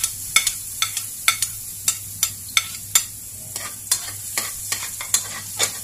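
Garlic sautés in a pan for chop suey, a spoon scraping and stirring in quick, regular strokes over a soft, constant sizzle, with no voices.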